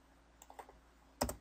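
A few soft keystrokes tap on a computer keyboard while a 3D model is drawn in SketchUp, followed by a louder, sharper key press like Enter near the end, with no talking.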